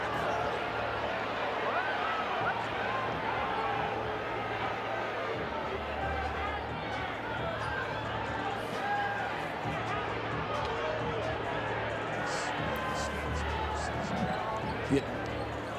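A college basketball arena crowd murmurs through a timeout in a Kansas State at West Virginia game, a steady low hubbub of many voices with ball bounces and court noise underneath, continuous and moderately distant.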